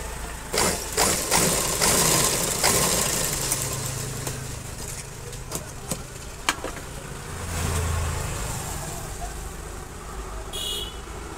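A sewing machine stitching churidar cloth runs in a close, fast mechanical whir that starts and stops in bursts, with sharp clicks and knocks between runs; no talk.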